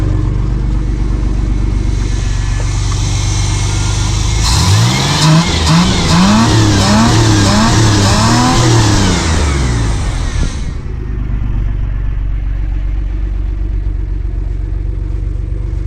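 A 1979 Pontiac Firebird, long left unused, roars to life with a loud, close engine rev that climbs and falls in repeated bursts over about six seconds, set between stretches of steady idle rumble.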